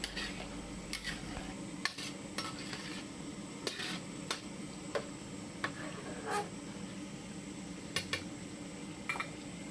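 A spatula stirring chicken fried rice around a pan: scattered sharp scrapes and taps against the metal at an uneven, unhurried rhythm over a steady low background hum, no voices.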